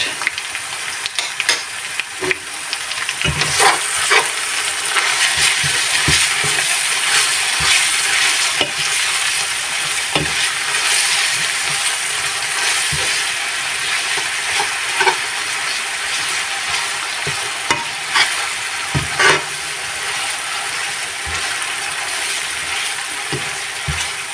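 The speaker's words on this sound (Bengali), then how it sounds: "এক চা চামচ আদা বাটা দিয়ে ভালোভাবে কষিয়ে নেব" Onions and ginger paste sautéing for a rohu fish dopeyaja, steady loud sizzle with frequent scraping stirs of a spatula against the pan, continuous with no voices.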